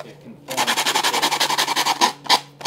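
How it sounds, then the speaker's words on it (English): Rapid rhythmic scraping of sandpaper on a soft block, about a dozen even strokes back and forth, close and fairly loud, ending with a couple of slower rubs. "You're just going to take this sandpaper"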